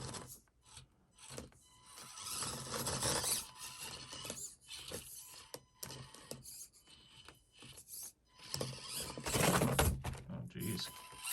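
An Axial SCX24 mini RC crawler works its way over a small course, giving a thin electric motor whine and the buzz of a servo with rubbing and scraping bursts, heard up close alongside intermittent talk.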